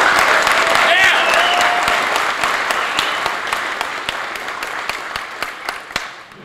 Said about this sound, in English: David and Carrie, just give them a round of applause because you do it.